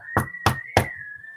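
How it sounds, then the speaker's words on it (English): Three sharp knocks on a door, close and distinct, spaced evenly in quick succession, followed by a faint lingering tone and quiet. "there was a knock on the door."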